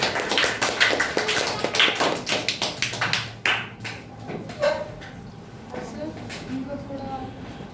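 Several people clap for someone speaker at a nature-themed public speaking competition. A burst of rhythmic applause lasts about three seconds and stops abruptly, then voices talk quietly with a few soft knocks.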